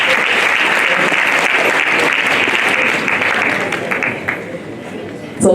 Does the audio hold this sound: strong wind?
no